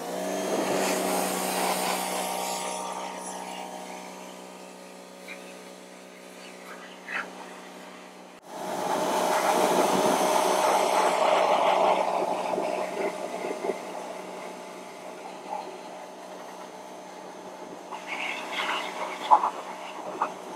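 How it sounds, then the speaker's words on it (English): A pressure washer blasts thin Plasti Dip off a car wheel, giving a loud, steady hiss of spray that cuts out briefly partway through and then resumes at close range. "we're gonna go in with our second round here with the pressure washer"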